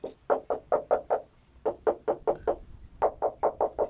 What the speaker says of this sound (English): if we knock it all the way along, it sounds the same whatever we do